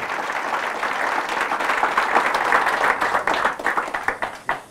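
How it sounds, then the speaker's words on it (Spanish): Sustained applause from a church congregation during a Catholic service, building steadily for several seconds and breaking into scattered individual claps near the end, with no talking over it. "Fuertes aplausos del que se lo merece."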